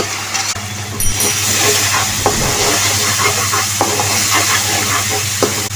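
Tomato rice cooking in oil and ghee in a pan, giving a steady close sizzle and frying hiss with occasional stirring scrapes throughout.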